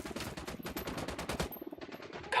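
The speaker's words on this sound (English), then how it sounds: "I'm opening fire on these shitheads." Rapid automatic gunfire in the tactical shooter Ghost Recon Wildlands, a dense, loud burst of sharp shots that breaks off briefly and resumes with a few more rounds, close and alone.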